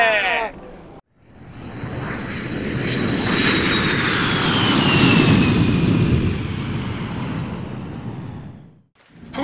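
Airliner engines roar steadily for most of the span as a passenger plane flies, a broad loud rumble with a thin high whine gliding downward across it, cut briefly by short gaps near both ends.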